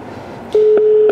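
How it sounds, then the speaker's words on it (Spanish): Dialing tones from the Bluetooth hands-free system of a 2017 Ford Ranger XLS 3.2 diesel double cab: three short, loud, evenly spaced beeps at one steady pitch that join into a continuous tone, heard alone without talk. "Ahí está marcando, como podrán ver"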